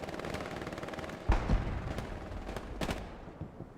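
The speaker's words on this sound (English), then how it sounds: "Let's get those MGs burning and turning." Machine gun fire in a multiplayer war video game, rapid rattling bursts amid a dense background of distant gunfire and battle rumble, with a couple of sharper louder reports mid-way.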